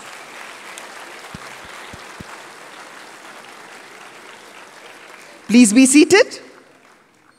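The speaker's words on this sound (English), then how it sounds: "please welcome them with a round of applause." Students and staff at a school assembly give new students a round of applause, a soft, steady wash of clapping that fades out as someone speaks up close.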